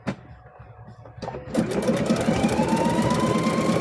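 Sewing machine stitching a car seat cover, starting after a few soft clicks and then running steadily with a fast, even mechanical whirr close to the microphone.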